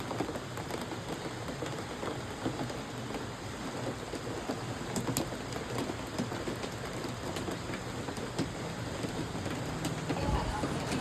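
Steady rain pours down outdoors during a monsoon outing, a dense continuous hiss filling the whole stretch at even loudness, with a faint low rumble underneath.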